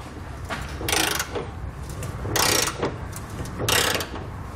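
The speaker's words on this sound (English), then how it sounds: "now we'll come back with our torque wrench here and our 19 millimeter socket and torque everything down" A torque wrench with a 19 mm socket tightens trailer hitch hardware on a 2017 Chevrolet, giving three loud, close bursts of rapid ratchet clicking over a steady background, with no talk.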